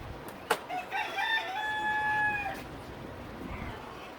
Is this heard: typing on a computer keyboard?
no